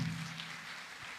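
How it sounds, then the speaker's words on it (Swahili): Applause for a doctor at a memorial gathering held to remember a mother, steady crowd clapping filling the room at an even, moderate level throughout. "Mpigieni makofi"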